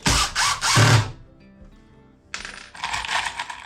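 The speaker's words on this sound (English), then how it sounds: "I'm screwing from the top into that sub base I have in there" A power drill drives screws down into the sub base of a window workbench, with loud whirring bursts separated by a quiet pause, then a second steady run of drilling.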